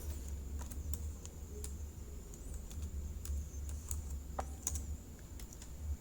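A computer keyboard is typed on in quick, irregular bursts of light clicks, close and fairly quiet, with no voice.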